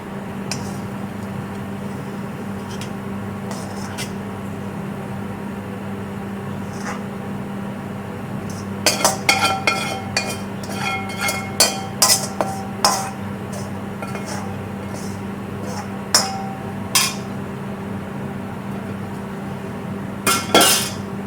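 Keema rice being mashed and stirred in a metal pan, with scattered clinks and scrapes of a utensil against the pan over a steady low hum, getting busier partway through.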